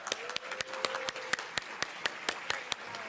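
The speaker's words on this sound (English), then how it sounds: "let's give them a big round of applause" A small audience claps for high school students at a meeting, producing sparse, distinct hand claps at an uneven rhythm over a faint background tone.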